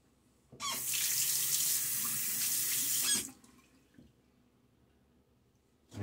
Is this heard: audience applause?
no